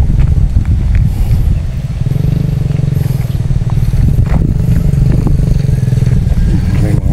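Motorcycles go by near a tobacco farm in Gitagum, Misamis Oriental, a loud, close engine drone that rises and swells with passing surges, heard under wind buffeting and a person talking.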